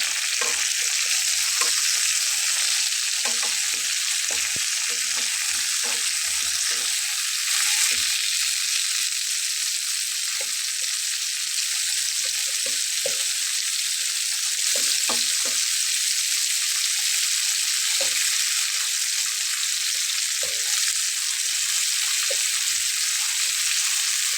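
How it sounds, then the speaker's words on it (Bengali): Bhola fish fries in a pan with a loud, continuous sizzle and a steady hiss throughout, broken by light scraping clicks as the pieces are turned, and no one talks. "এইভাবে উল্টে পাল্টে আমি একটু ভেজে নেব তো বন্ধুরা ভাজা হচ্ছে"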